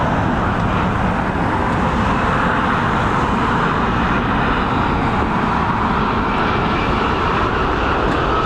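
A passenger airliner arriving at Dublin Airport on a flight from Doha produces a steady, loud, broadband jet roar that holds constant throughout without pause, with no voices audible.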